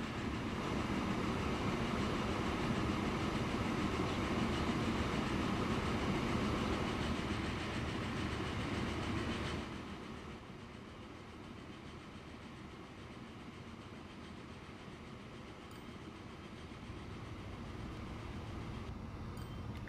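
A 1918-era train runs on rails in the Transport Fever game, a steady rolling rumble and clatter that drops noticeably quieter about halfway through, with no talk.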